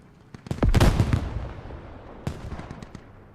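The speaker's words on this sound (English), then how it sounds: "Ego quick to get back onto the mortars and keep them firing." A mortar barrage thunders in the Squad video game, with a dense cluster of loud booming blasts early on followed by a few scattered, sharper impacts later, with no voices.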